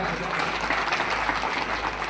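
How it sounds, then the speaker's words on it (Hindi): Crowd applause at an outdoor political rally during a development chariot procession in a Rajasthan village, a steady dense wash of clapping filling the moment with a low hum beneath. "एक बार तालियां बजाएं"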